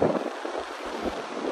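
Steady wind roars and buffets the microphone on a beach in Melbourne, Australia, a continuous rough rush with low gusty thumps throughout.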